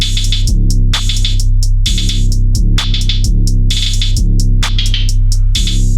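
Programmed drum pattern with a two-step hi-hat fill: crisp, rapid hi-hat ticks in bursts over a steady, heavy low bass hum, looping loudly and evenly for several bars, no talking.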